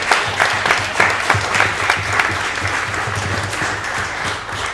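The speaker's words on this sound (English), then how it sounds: "can we clap that up for the community?" Audience applause at a West Genesee high school football community event, a dense, steady clatter of many hands clapping throughout, loud and close with scattered sharper claps and no speech over it.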